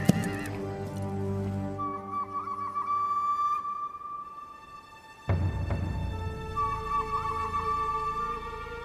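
Horses whinny and neigh several times, loud and near, with hooves clattering on the ground between the calls.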